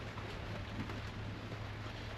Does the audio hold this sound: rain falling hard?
yes